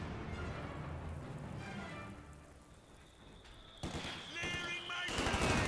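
MG42 machine gun fire in Company of Heroes 2, with quiet battlefield ambience that swells into bursts of rattling automatic fire toward the end, alongside other battle noise.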